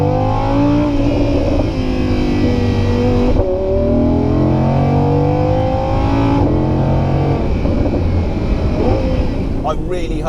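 An Audi R8 Spyder's V10 engine revs loudly and repeatedly, close by, with sweeping rises and falls in pitch; a voice talks over the engine throughout.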